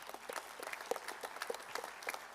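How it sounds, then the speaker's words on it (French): Soft, distant applause from a congress audience for a regional aero club, scattered claps blending into a faint patter. "Et je pense qu'on peut l'applaudir."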